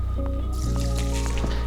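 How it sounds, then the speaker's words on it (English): A liter of water poured into a pot holding short grain brown rice, a brief liquid gush with splashing and dripping over a low steady hum, close and fairly quiet. "And then a liter of water."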